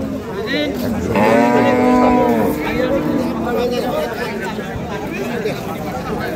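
A cow lets out one loud, drawn-out moo at a busy village cattle market in Dinajpur, where dairy cows and calves are sold, with crowd chatter and talk around it throughout.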